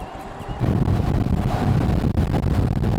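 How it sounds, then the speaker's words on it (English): Loud, blustery wind buffeting the microphone, a dense low rumble that kicks in abruptly and roars steadily, briefly dipping once. "Very windy."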